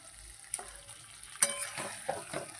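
Chicken for a Bengali curry is sautéed in oil in a pan, heard as a faint sizzle with a few sharp stirring scrapes and clinks against the pan.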